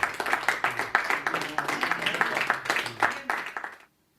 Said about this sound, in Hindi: जोरदार तालियों से उसे आमंत्रित करिए।